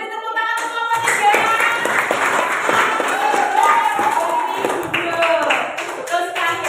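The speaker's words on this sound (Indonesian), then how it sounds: "Kita beri tepuk tangan untuk kelompok 3." Classroom applause for a student group, rhythmic hand clapping from several people running through the whole stretch, with voices talking over it.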